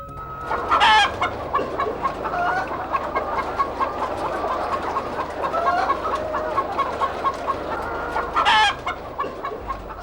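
Chickens cluck steadily in a village poultry farm while a rooster crows twice, once near the start and again near the end, close and clear with no talk.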